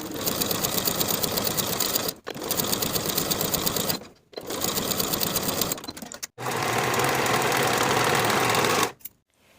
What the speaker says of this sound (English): we'll sew together with a 1/2 inch seam allowance